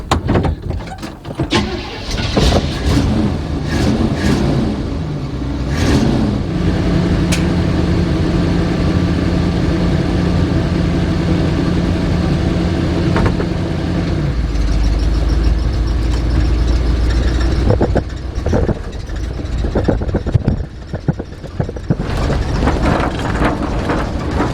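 A 1976 GMC Vandura engine runs loud and close, starting with uneven revving and clatter, then settling into a steady low rumble with a deep drone in the later part.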